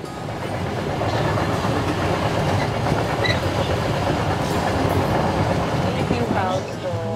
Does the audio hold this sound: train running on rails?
yes